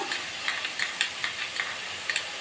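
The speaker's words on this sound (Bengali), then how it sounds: "দু এক মিনিট নাড়াচাড়া করে নিলাম পেঁয়াজটা আদা বেটে একদম সেটা দিয়ে দিলাম" Onion and ginger paste frying in a pan while being stirred, a steady soft sizzle broken by repeated light scraping ticks of the spoon, close and fairly quiet.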